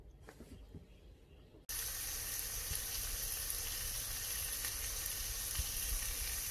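Three or four tablespoons of butter melting in a frying pan for eggs, starting with a quiet clatter, then a loud, steady hiss of sizzling that holds close and even without any talk.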